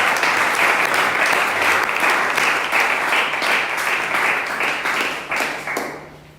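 A church congregation applauds steadily and loudly, a thick wash of clapping from many hands that carries on for several seconds before thinning out and fading at the end.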